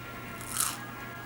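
A single crisp crunch as someone bites into crunchy, freshly cooked food from a TikTok food hack, close and short against quiet background hum.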